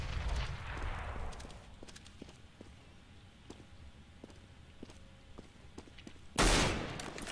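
Gunfire in an online arena shooter match with a Scout sniper rifle: scattered sharp shots crack at intervals, then a loud, dense burst of fire erupts near the end.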